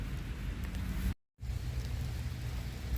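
Steady rain hisses down in a dense, even wash, cut by a brief moment of silence before the downpour resumes.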